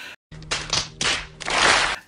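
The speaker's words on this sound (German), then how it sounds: "Klatsch" A few sharp hand claps, close and loud, coming in quick uneven bursts after a brief silence, with no speech.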